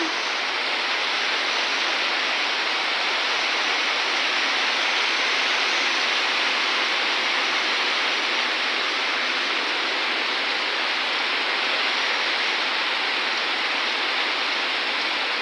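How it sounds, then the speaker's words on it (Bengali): Heavy downpour drumming on a tin roof, a dense, steady roar of rain that holds level and close for the whole stretch with no talk over it. "মুষলধারে বৃষ্টি হচ্ছে"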